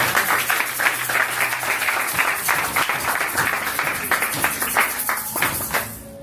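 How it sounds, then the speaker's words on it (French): Audience applause at a French-language gathering, a dense steady clapping wash lasting several seconds and fading slightly at the end, with no voices over it. "On acclame encore. On acclame."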